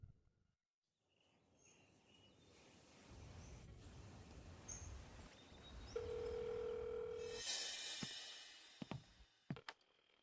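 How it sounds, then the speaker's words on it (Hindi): A telephone call ringing unanswered, with one steady ringback tone lasting about a second and a half over quiet background noise, followed by a few faint clicks. "तुम मेरा फोन क्यों नहीं उठा रहे?"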